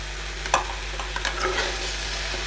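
Garlic fries in a pan for chicken keema, a low continuous sizzle punctuated by a few sharp scrapes and clinks of a spoon stirring, close and quiet with no voices.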